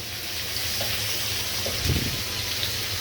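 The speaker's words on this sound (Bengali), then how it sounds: "ইলিশ মাছের তেল জাল করব। আমি মাছটা হালকা ভেজে নিব" Hilsa fish pieces, heads included, fry lightly in oil with a steady close hiss and crackle, broken by a brief louder spatter or stir near the middle; nobody speaks.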